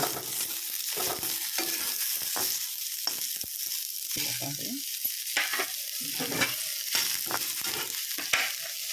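Onions fry in a pan for fish curry, giving off a continuous bright sizzle broken by frequent scraping and clattering stirs, close up, with no voices.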